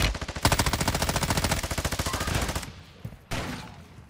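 Rapid automatic gunfire in the video game Warzone 2, a loud, fast stream of evenly spaced shots for about two and a half seconds, then a pause and a second short burst.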